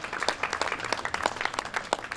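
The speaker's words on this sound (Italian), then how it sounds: "Un applauso." Steady applause from a crowd, dense overlapping claps throughout with no pauses.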